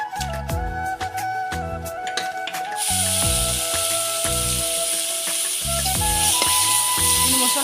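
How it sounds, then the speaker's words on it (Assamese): Spices frying in a pan while a dish cooks, a steady sizzle that grows louder and brighter partway through, with rhythmic low thumps and tonal scraping from stirring throughout. "মছলাখিনি দি দিলোঁ এনেকৈ অলপ ভাজিব লাগিব"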